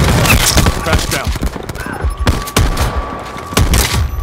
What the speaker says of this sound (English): That's a realistic shotgun right there.